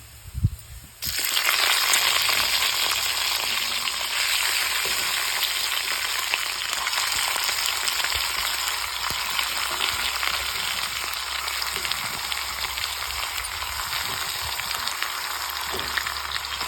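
Chicken pieces tipped into hot tempered oil in a pan for a village-style chicken fry set off a loud, continuous sizzle and crackle that begins after a brief clatter and holds steady throughout.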